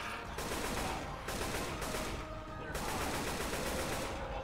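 Rapid bursts of automatic gunfire in Left 4 Dead 2, loud sustained volleys broken by short gaps.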